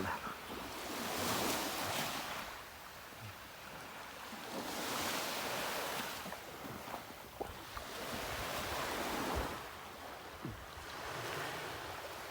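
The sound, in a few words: sea waves on the shore at Tekirdağ Çorlu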